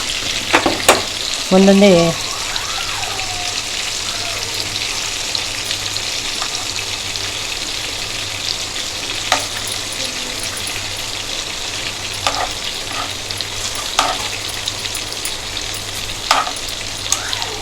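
Stuffed ridge gourd fries in a little oil while the pieces are turned, a continuous sizzle with scraping and clinking of a utensil against the pan; a voice briefly speaks near the start.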